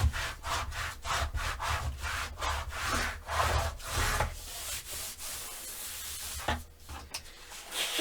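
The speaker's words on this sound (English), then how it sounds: "And then using my table, I'm going to push this down and just get a good burnish." Bone folder burnishing paper onto chipboard pieces on a tabletop for a scrapbook cover, a close, steady run of scraping rubs in quick back-and-forth strokes with no talking.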